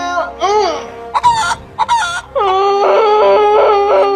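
Chickens and a rooster clucking and crowing in a barnyard, with repeated harmonic crowing calls and short bursts of clucks, loud and near.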